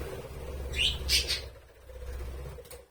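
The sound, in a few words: pet bird chirping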